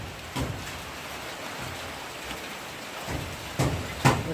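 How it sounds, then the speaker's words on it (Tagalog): Steady, dense patter of rain fills the background, with a few louder drops or knocks near the end. "Mahigpit pa rin po ang ulan."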